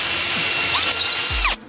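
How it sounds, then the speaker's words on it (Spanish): A power drill with a bit grinds off a seized screw head on a 1JZ-GTE twin-turbo engine left abandoned for 14 years, giving a loud, close, steady mechanical whine that cuts off abruptly near the end. "Para quitarle la cabeza, pues con una broca y la máquina de taladrar."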